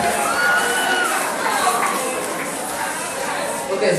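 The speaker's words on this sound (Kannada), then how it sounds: "ಜೋರ ಚಪ್ಪಾಳೆ ಸುಮ್ಮನೆ ಅವ್ರಿಗೆ." Audience applause and cheering fill the room after a rope trick at a live magic show, a dense steady roar of clapping and voices with children shouting, sustained and loud throughout.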